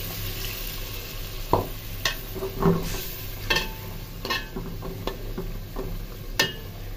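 Spiced water splashes into frying meat masala, raising a steady sizzle broken by several sharp scraping stirs of the spoon in the pan.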